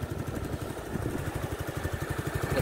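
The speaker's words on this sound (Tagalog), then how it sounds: "Ganda ng tunog ng makina." A Suzuki Skydrive Crossover scooter engine idles close by with a steady, even putter of quick regular pulses, fairly quiet and alone for under three seconds.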